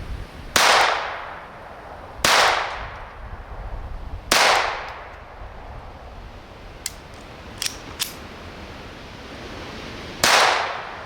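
Sharp .22 rifle shots crack at a bottle outdoors, four loud reports spaced a couple of seconds apart, with faint clicks from old shells that fail to fire in between.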